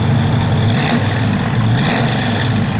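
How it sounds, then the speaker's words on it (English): A 1969 Ford Mustang Mach 1 engine is revved outdoors in freezing cold, a loud continuous throaty rumble that swells slightly and holds steady close by, with no talking. "A little rev. Rev a little, Nathan."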